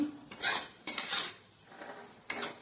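A utensil stirs fried vegetables with ginger, onion and garlic in a pan, making three or four distinct scraping strokes with quiet gaps between them and a faint sizzle.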